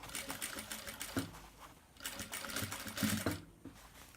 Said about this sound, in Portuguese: O ideal é que costure mesmo bem devagarzinho, para ela não ficar torta.